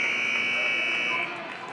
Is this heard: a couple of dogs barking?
no